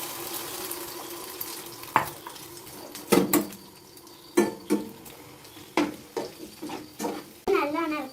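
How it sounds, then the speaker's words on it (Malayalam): Egg is poured into a hot oiled pan and scrambled, with a low sizzle underneath sharp clinks and scrapes of a utensil against the pan that come in irregular bursts. "ഇനി നമുക്ക് മുട്ട ഒഴിച്ച് ചിക്കി എടുക്കാം."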